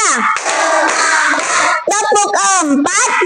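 Schoolchildren in a fifth-grade classroom play a counting clap game, chanting loudly together with sharp hand claps falling between the chanted counts.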